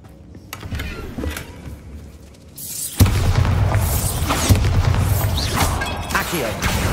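Bombarda spell blast in the Hogwarts Legacy video game, landing as a sudden loud boom partway through and followed by a sustained crashing, rumbling din, with a voice speaking over the game sound.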